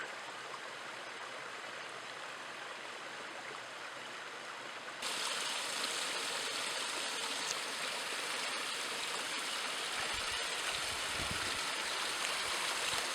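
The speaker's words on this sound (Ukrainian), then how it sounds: "вода, яка протікає потоком через жіночий табір" Mountain stream flowing through terraced ground beside a retaining wall, a steady rushing and splashing of water that grows noticeably louder and nearer partway through, continuous and alone without talk.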